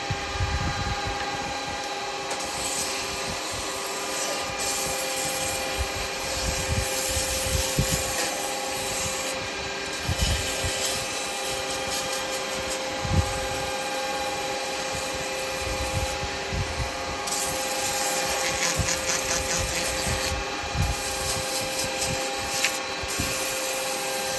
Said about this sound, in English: a little bit of sanding